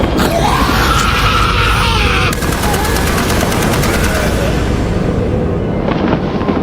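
Dense, loud gunfire roars in a chaotic fight amid shouting, a sustained barrage of rapid shots that keeps going nearly throughout, with voices yelling over it and the burst thinning toward the end.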